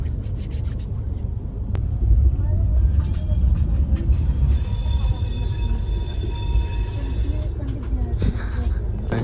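An Indian railway passenger train runs on the Hyderabad–Bangalore route, giving a steady, close rumble with rattling carriages and faint high metallic squeals throughout.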